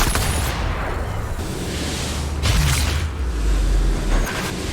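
Sniper rifle fire in the VR shooter Sniper Elite VR, aimed into a warehouse full of enemies: loud, heavy booming blasts with deep rumbling tails, several in close succession, nearby and unaccompanied by talk.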